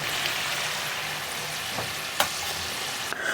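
Yam pieces frying in hot oil for a Jodhpur-style Kabuli pulao, a steady close sizzle with a few brief clinks and stirring sounds, no talking.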